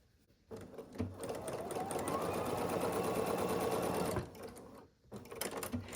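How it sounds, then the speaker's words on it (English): A sewing machine stitches two log cabin quilt block pieces together in one steady, close run of about three seconds, with soft handling sounds before and after. "So here I have two pieces. I'm going to sew these two together."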